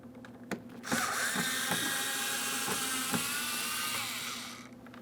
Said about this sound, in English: I'm just going to go ahead and drill this out